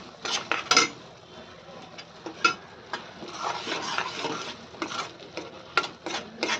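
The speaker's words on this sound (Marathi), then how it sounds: "काजू घालून घेतले म्हणजे ते तेलावरती चांगले फ्राय होऊन जातात" Cashews frying in oil in a pan, a light sizzle under repeated metallic spoon scrapes and clinks against the pan, irregular and close.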